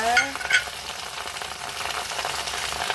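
Garlic and chili flakes fry in a pan with a steady, bright sizzle, broken at first by a couple of stirring scrapes. The sound stays close and fairly loud throughout, with no talking.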